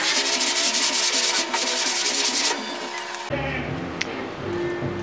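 A car passenger door is sanded with 180 grit sandpaper before primer, making a steady, close, scratchy rubbing that shifts to a lower, rougher tone partway through.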